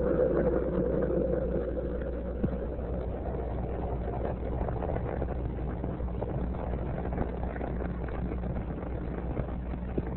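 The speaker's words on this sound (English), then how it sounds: "Three main engines are up and running" Space Shuttle Columbia main engines roaring after liftoff on mission STS-28, heard as a steady, muffled, distant low rumble lasting the whole stretch with no talking.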